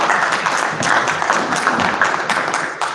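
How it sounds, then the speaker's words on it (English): Members at a parliamentary briefing give a short round of applause, a fairly loud, slightly uneven patter of hands lasting a few seconds. "We can give him another round of applause."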